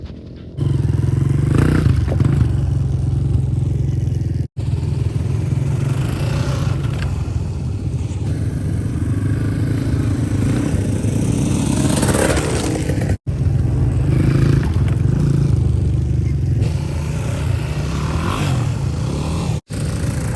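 Dirt bike engine revving nearby during off-road riding practice at a beginner's class, with uneven throttle surges and clattering under a steady engine drone, broken by brief cuts.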